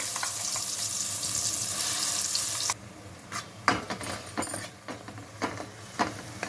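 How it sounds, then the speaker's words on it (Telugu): Masala paste with shahjeera sizzles loudly in hot oil in a pan on the stove for a cashew chicken gravy, a dense steady fry that drops away after a few seconds to quieter spoon-stirring scrapes and clinks. "ఆయిల్లో మంచిగా ఫ్రై చేసుకోవాలండి"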